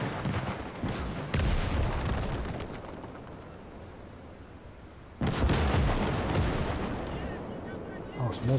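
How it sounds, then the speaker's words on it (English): Anti-tank cannon fire and gunfire in the WWII real-time strategy game Gates of Hell: dense, rumbling booms and crackling shots fill the scene, with heavy bursts near the start and a loud renewed salvo around the midpoint; no speech. "Anti-tank cannon is engaging the tanks I'm putting forwards."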